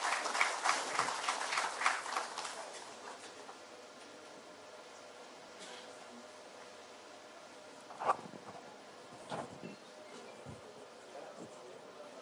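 Applause greets a guest at the Bharatiya Excellence Awards 2024 ceremony: a burst of clapping from an audience that is dense at first, then thins and fades to a few scattered claps.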